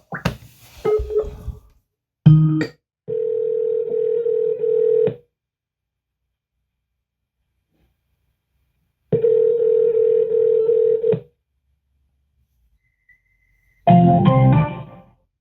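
Unanswered phone call with a steady electronic telephone ringback tone sounding in two long bursts separated by silence, with brief clicks and line noise before and after.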